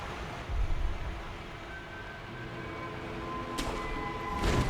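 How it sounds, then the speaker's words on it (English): A roaring waterfall in Sekiro: Shadows Die Twice pours with a broad, constant rushing noise, steady and enveloping, with a few faint tonal hums and brief crackles rising over it near the end. "Noise of the roaring waterfall is deafening."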